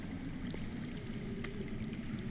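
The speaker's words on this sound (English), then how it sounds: "That's water. I hear water. From underground." Underground water flows steadily in the Game of Thrones video game, a continuous low rushing wash with a faint trickling texture, unbroken and without speech.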